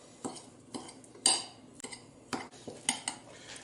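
A utensil stirs a honey barbecue sauce mixture in a bowl, giving a series of irregular clinks and scrapes, close and fairly quiet, with no talking.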